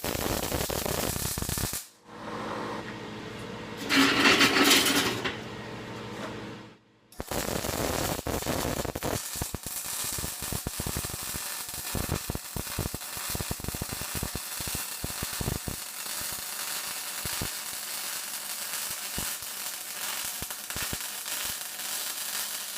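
MIG welding with solid steel wire and external shielding gas, outdoors in wind, produces a dense, steady crackling sizzle that runs continuously, loud and close, after a brief interrupted start.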